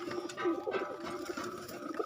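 Pigeons of a cat-line breed, kept at home and let out to roam, make a short run of soft, low coos close by over a steady background murmur.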